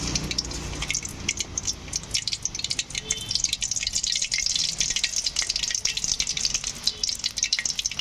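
Prawn vada patties fry in hot oil, giving a loud, steady sizzle with crackling and bubbling that lasts the whole stretch, with no talking.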